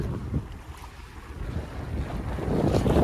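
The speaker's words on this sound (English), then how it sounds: "the winds are picking up." Wind rising over a sailboat at sea, a gusting rush with buffeting microphone noise and water washing against the hull, growing louder toward the end.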